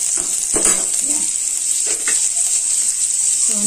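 Garlic frying in a pan for chicken lugaw gives a loud, steady, close sizzle with intermittent scrapes and knocks of stirring over the continuous hiss.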